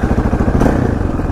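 KTM LC4 640 single-cylinder motorcycle engine revving hard while accelerating into a power wheelie without the clutch, a loud close pulsing throb that stays strong throughout.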